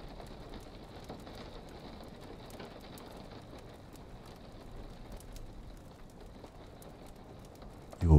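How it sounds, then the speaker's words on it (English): Rain taps steadily beside a crackling fire, a soft, even patter of drops with faint scattered ticks throughout, ending in a short louder thump. "the sound of the tapping rain and the crackling fire"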